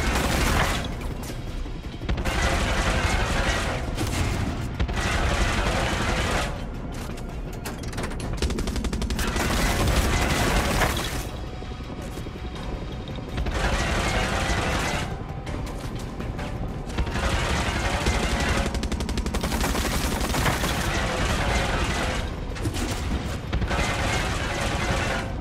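A tank's main gun fires again and again in Far Cry 6, loud, dense bursts of booming blasts and rattling impacts, broken by short lulls, over roughly twenty-five seconds.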